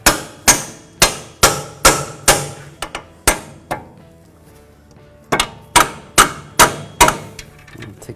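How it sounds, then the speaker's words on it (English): A hammer drives bolts into the front strut mount of a 2009 Ford Escape, a loud run of sharp metallic strikes in steady rhythm, a pause, then another quick series of blows. "Take a hammer and just hammer them in."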